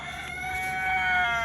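A rooster crows on a backyard poultry run with two roosters, one a Faverolles-Brahma cross. The single sustained, strained call swells slightly louder toward the end.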